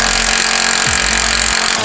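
A power drill whirs loud and close during a roll bar install on a Porsche GT3RS, a continuous high buzzing with a brief low dip near the middle.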